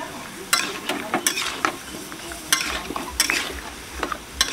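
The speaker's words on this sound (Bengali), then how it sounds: "মাংস যত কষবে তত খেতে ভালো হবে" Meat is stir-fried in a pan for kasha, with repeated sharp scrapes and clinks of a spatula against metal, spaced irregularly over a steady low sizzle and close to the listener.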